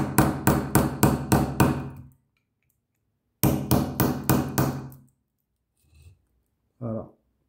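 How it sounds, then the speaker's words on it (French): A hammer strikes an electric motor clamped in a vise to pull out its copper: two quick bursts of about six sharp, close metallic blows each, separated by a pause, then a brief faint knock. "Donc là, du coup, sur un étau, c'est mieux parce que vous pouvez taper plus fort."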